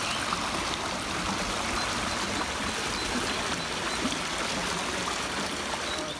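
Water from an old, artificially shaped stream flows out of an underground channel into a castle park pond, a steady broadband rush and trickle filling the whole stretch at even loudness without a break.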